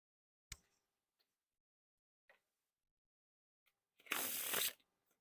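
A sharp snap, a few faint ticks, then a quick papery riffle of Aurora Northern Lights playing cards sliding apart into a giant face-up fan, brief and close in a quiet room.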